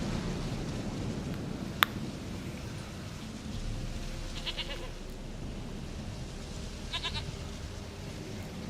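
Goats bleat in The Witcher 3, two short wavering calls set well apart against a steady backdrop of rain and low rumbling ambience, with no talk.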